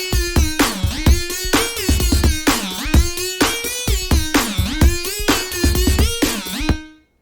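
A plain MIDI-programmed drum track without accents plays as a steady, evenly repeating beat with punchy low hits and tonal layers, then cuts off abruptly at the end.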